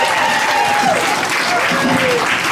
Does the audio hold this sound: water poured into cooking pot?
no